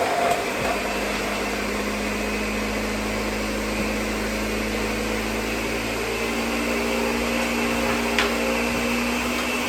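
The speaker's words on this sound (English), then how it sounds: "So it's only a couple minutes in the blender that he has it going." A blender runs steadily in a home kitchen while fresh vegetables are prepared for a sautéed side dish, giving a continuous, fairly loud motor drone with a low hum and broadband whir, unbroken and without talk.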